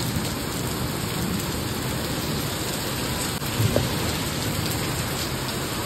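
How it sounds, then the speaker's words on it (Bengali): Very heavy rain pours down outside in a dense, steady roar of drops striking surfaces, loud and unbroken, with a faint low rumble midway. "বাইরের বৃষ্টিটা শুধু দেখো, উড়িয়ে বাবা কি জোরে বৃষ্টি পড়ছে গো।"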